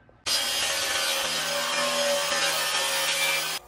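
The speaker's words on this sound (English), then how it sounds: "rip it down with my circular saw and also my Craig rip cut as a guide" A circular saw rips lengthwise through a shiplap board guided by a Kreg rip cut, a loud, steady whining cut that starts abruptly, holds for about three seconds and stops sharply.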